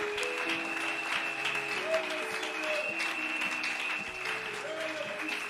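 A church congregation at a Sunday service applauding, with a steady, dense clapping that runs through the whole stretch while a voice and sustained music carry on over it.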